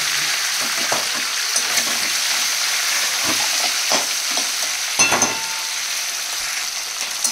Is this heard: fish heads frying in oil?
yes